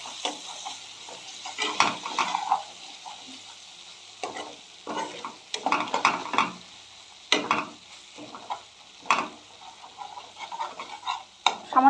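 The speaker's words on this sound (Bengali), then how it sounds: "এই সময়তে আমি কাজু বাদাম যেটা বাটাটা বানিয়েছি আমি সেটা দিয়ে দেব। ভালো করে একটু কষিয়ে নেব।" A spice paste fried with cashew paste in oil for a rohu fish curry in coconut milk, with a low sizzle under repeated loud scraping stirs and spatula knocks against the pan, and no talking.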